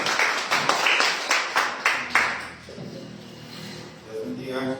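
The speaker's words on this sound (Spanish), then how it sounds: "Denle un fuerte aplauso al Señor" A church congregation breaks into rhythmic clapping in unison, several sharp claps in a steady beat that fade after a few seconds, followed by a voice singing or speaking under the fading noise.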